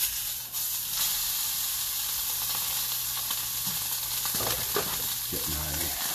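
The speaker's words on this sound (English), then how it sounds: "So I just want to get a good sear on to get all those juices nice and trapped in." Steak sears in a hot pan with a steady, loud sizzle and hiss that runs the whole time, joined near the end by a few clinks and scrapes of handling.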